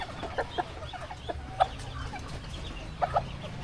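Chickens on a farm cluck softly in short, scattered bursts close by during heavy rain, over a low background murmur.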